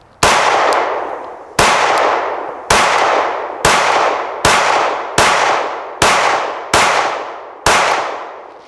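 Eight sharp gunshots fired at a rubber target about 10 yards away, each a loud crack with a ringing metallic decay, evenly spaced about a second apart, with no talking.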